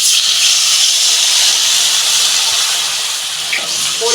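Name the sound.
water being poured into a hot cooking pan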